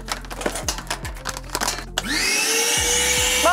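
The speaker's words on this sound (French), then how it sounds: "on va simplement positionner le tuyau de l'aspirateur au sol. On va pas chercher à aspirer les poussières, on va juste aspirer l'air" A vacuum cleaner in a basement, its hose laid on the floor to suck air, starts with a few clunks and knocks and then spins up into a loud, steady rising whine that holds to the end.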